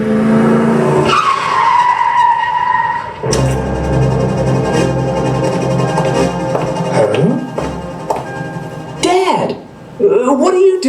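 Car tires squeal and skid loudly in a driving video game, with long screeching slides and engine revving, close and dominant, while voices talk intermittently.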